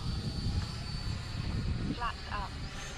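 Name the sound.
X-fly Sirius 80mm RC sport jet flying slowly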